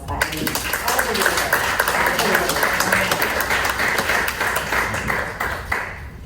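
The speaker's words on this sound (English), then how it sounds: "round of applause" Audience at a Palm Beach gubernatorial candidate forum breaks into steady applause, many hands clapping densely and evenly for about six seconds before tapering slightly at the end.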